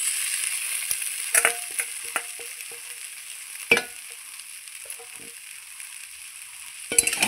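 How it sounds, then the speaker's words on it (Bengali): Fish heads are added to rice and potatoes frying in a pan, giving a soft, continuous sizzle broken by a few sharp scrapes and clinks of stirring. "আমি মাছের মাথাগুলো এখন যেগুলো ভেঙে রেখেছি সেটা এর মধ্যে দিয়ে দেব।"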